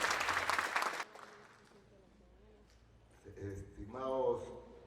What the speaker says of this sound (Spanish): Fuerte las palmas, por favor.